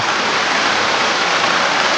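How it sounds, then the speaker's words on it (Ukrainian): Steady rain pours outside a greenhouse, a dense, even hiss of drops heard from inside, continuous and fairly loud with no voices. "Почався на вулиці дощ, як чуєте"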